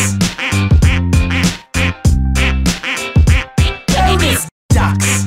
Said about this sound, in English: Bonus ducks.